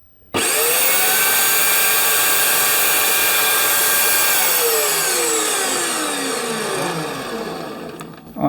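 Scheppach MBS 1200 metal-cutting band saw running at higher speed, a loud continuous whirring drone with high motor harmonics that starts abruptly, holds steady, then winds down with falling tones near the end.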